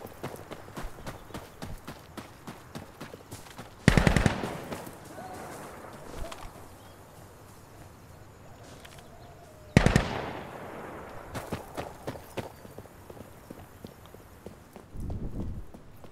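Suppressed gunfire crackles in a video game, with two sharp loud bursts and a later shorter burst over a busy background of clicking footsteps and small ticks.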